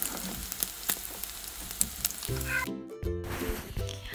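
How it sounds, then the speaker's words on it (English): Spicy sardine fishcakes fry in hot oil in a pan with a steady, close sizzle and scattered pops; a low tonal hum enters partway through. "It's frying time."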